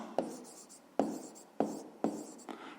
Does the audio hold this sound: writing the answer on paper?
yes